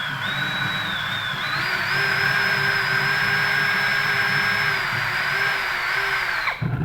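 An APR drill bit bores into hard house plaster, giving a loud, steady high-pitched whine with a slight pitch rise early on. It runs for about six and a half seconds before cutting off abruptly.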